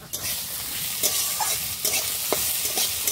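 Cut potatoes fry in a pan with a constant close sizzle, while a spoon stirs and scrapes at intervals over the crackling oil.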